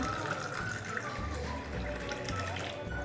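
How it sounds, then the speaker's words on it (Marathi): Water pours steadily into raw mango panna drink, a continuous splashing gush with no voices. "पाणी घालायचे आहे"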